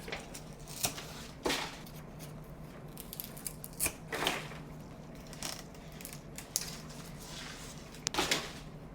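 Scissors snip repeatedly at a Monstera plant being trimmed during repotting, sounding as sharp, close cuts at irregular intervals over faint rustling.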